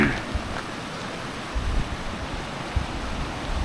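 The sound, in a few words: Dudhiya river flowing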